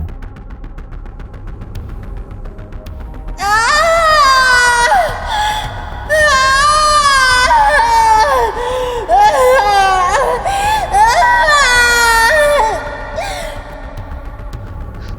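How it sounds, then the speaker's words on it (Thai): A young woman screams and wails in long, shrill, wavering cries, loud and close, in several bursts with brief gaps over a low rumbling background, in a Thai ghost story. "เสียงกรีดร้องของหญิงสาว ดังขึ้น"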